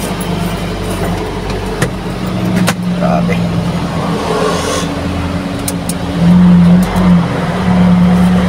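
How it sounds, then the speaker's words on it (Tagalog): A vehicle engine being warmed up idles with a steady low rumble, then revs up loudly for a few seconds near the end, with a person talking over it. "Painitin muna natin ng konti yung makina tapos saka tayo umabad"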